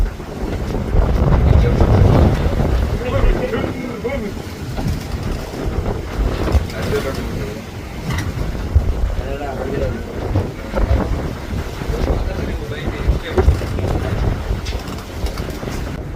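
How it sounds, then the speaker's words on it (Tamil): A fishing boat heads across the deep sea in wind and waves, giving a steady engine and hull rumble mixed with gusting wind buffeting the microphone, loud and continuous, with a voice talking over it. "இப்போ நம்ம கம்பெனி போட்டுமே அடுத்து வேற ஒரு இடத்துல மீன் பிடிக்கிறதுக்காண்டி இடத்த நோக்கி போயிட்டு இருக்காங்க"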